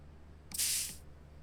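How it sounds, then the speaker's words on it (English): Spray can hissing in a video game as fossil bones are painted green, a single bright burst of about half a second over a low steady hum, with no talking. "Spray paint the bones green."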